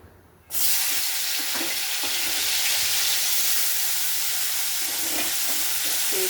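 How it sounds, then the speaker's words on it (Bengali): Thinly sliced jackfruit seeds hit hot oil in a pan and burst into a loud, steady sizzle after a quiet start, with faint stirring clicks underneath and no voices. "কটা কাঁঠালের বিচি ভাজবো, একদম পাতলা করে কেটে রেখেছি"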